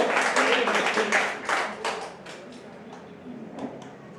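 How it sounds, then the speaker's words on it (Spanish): A church congregation applauds, a brief burst of clapping that is loud at first and then thins out and fades over a few seconds. "Denle un fuerte aplauso al Señor."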